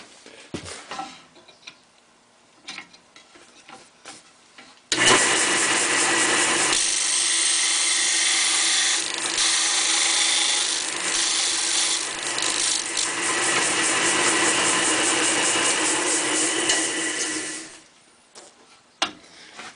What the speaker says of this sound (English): I'm going to grind that off about 1/3 way down on the snout of the cartridge.